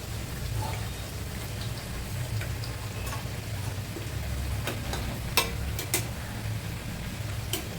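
Cassava chips fry in hot oil in a home kitchen, giving a soft continuous sizzle with occasional clinks of a slotted spoon against the pan.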